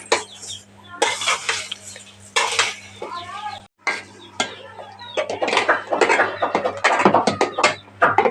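A spoon clatters and scrapes against a pot while vermicelli is stirred into boiling milk, in close, irregular bursts of metallic clinks over a faint background hum.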